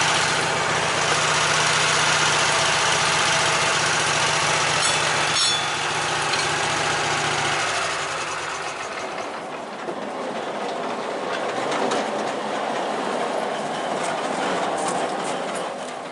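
Wood-Mizer LT15 sawmill cutting a 12-foot white pine log into bevel siding, a loud steady machine drone for the first eight seconds before the low end drops away and a thinner, rattling mechanical noise carries on.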